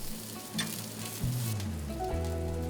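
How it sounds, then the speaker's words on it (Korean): Tofu and seasoned meat patties frying in a pan, a steady close sizzle with faint hissing, a low background hum shifting in pitch throughout. "두부와 적절한 비율로 만든 고기 반죽을 노릇하게 익혀주고"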